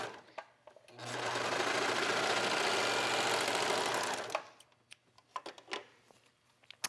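Close, steady whir of a sewing machine stitching a leggings cuff runs for about three seconds, followed by scattered soft clicks and fabric handling.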